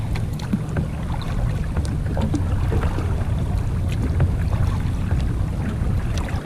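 A Lightning Kick 106 pedal kayak moves on open water, with steady low splashing and churning under constant wind rumble, close and fairly loud.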